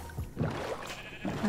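A short video-game sheep bleat from Minecraft, wavering and fairly close, repeated briefly over a steady background hum.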